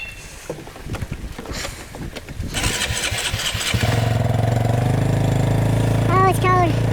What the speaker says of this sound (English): There's a couple chunks around the log splitter and just split them up and see if I can get something.